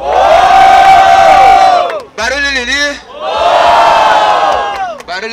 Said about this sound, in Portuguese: Público, o bagulho é o seguinte: barulho para Lili